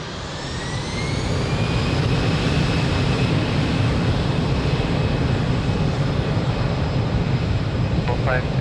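An airliner takes off from runway 02 at Lisbon Airport, its jet engines a loud, steady broadband roar that swells in the first second and then holds, with a faint rising whine above it.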